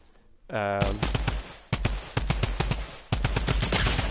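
Rapid automatic fire from a Fortnite drum gun, a scoped weapon, rattling off in dense bursts with two brief pauses, loud and close, preceded by a short rising tonal sound.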